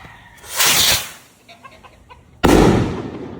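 A big kwitis firework rocket goes off outdoors: a rushing launch swell, brief crackles, then a sudden loud sharp explosion with a lingering rumbling echo and no talking.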